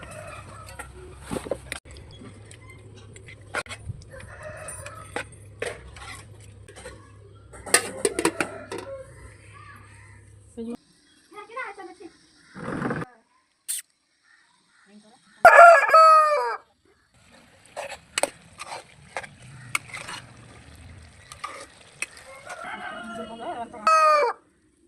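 A country rooster crows in a few drawn-out calls amid scattered clucks, clattering kitchen sounds and a low hum, with quiet gaps between bursts.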